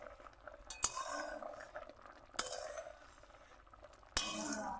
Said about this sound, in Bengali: এবার আমি খুন্তির সাহায্যে আমি নেড়ে নেব।